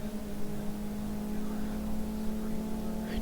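Steady engine drone of cars racing in GT Racing 2, a constant tonal hum with a slight rise in pitch as the cars accelerate, continuous and fairly loud throughout with no speech.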